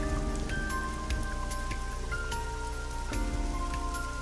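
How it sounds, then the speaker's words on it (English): Steady rain pours down without a break in the video game AI: The Somnium Files, a dense hiss of drops over a low hum, with occasional louder drops standing out. "is getting pelted by the rain"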